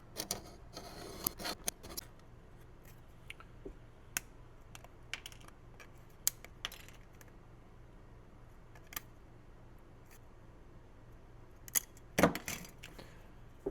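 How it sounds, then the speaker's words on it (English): Fine metal scribe tool scoring and scratching a plastic HO scale Walthers building kit, a series of sharp, dry clicks and scrapes spaced irregularly across a quiet room, close and fairly light. "I'm going to use a scribe tool."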